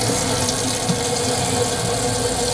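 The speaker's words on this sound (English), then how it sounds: "I can't believe we have running water." Water runs from a tap into a sink fitted in a converted van, a steady, fairly loud rushing stream with no voices.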